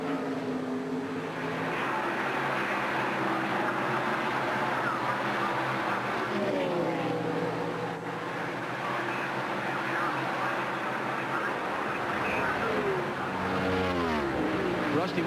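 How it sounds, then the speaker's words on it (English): NASCAR Winston Cup race cars lap a road course, engines droning and revving continuously at a distance, with pitch sweeps as cars accelerate and pass, all under crowd and track ambience. "Rusty Wallace, one of the kings of NASCAR Winston Cup road course racing"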